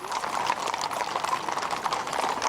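Horses of the French Republican Guard approach at a commemorative ceremony in May 1998, hooves clip-clopping steadily and continuously at moderate distance amid outdoor crowd ambience.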